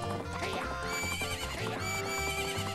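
Epona, the horse in the video game Zelda: Majora's Mask, gives a clear neigh over steady game music and galloping hoofbeats.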